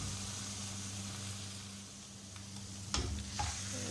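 An egg and milk omelette fries in a frying pan, giving a steady soft sizzle throughout, with a couple of brief clinks and scrapes near the end as the pan or utensil is handled.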